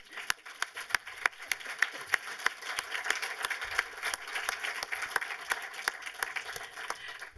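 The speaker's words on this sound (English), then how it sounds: "Applause." Lecture audience applauding a guest filmmaker, a steady patter of many hands clapping at moderate distance, fairly quiet and continuous with no talk.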